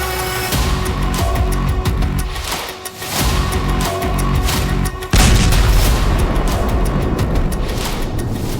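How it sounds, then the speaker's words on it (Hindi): Khorramshahr-4 (Khaibar) ballistic missile launch and explosion: a loud, continuous roaring rumble with repeated heavy booms and a sharp, louder blast about midway that sustains to the end. "खुर्रमशहर 4 जिसे खैबर भी कहते हैं, उसका धमाका देखिए।"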